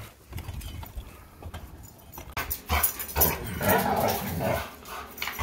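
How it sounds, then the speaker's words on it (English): A dog upset by roof workers gives loud, rough barks and growls in uneven bursts, building in intensity toward the end. "The dog is very upset with people. This morning he was just barking."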